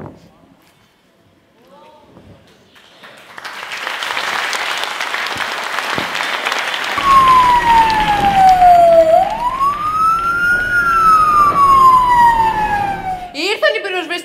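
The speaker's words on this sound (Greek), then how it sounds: "Ήρθαν οι πυροσβεστικές!" A crowd claps and cheers as a fire engine siren wails in, starting partway through and sweeping up and down loudly over the applause, with voices shouting underneath.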